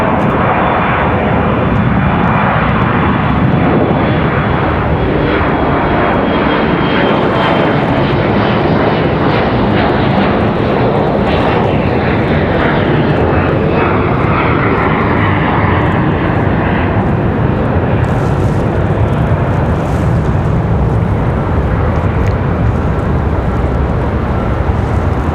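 Close and very loud, an airliner takes off from Raleigh-Durham International bound for JFK: a powerful roaring jet-engine thrust with deep rumble, shifting in tone as the aircraft passes and climbs away, with no talking.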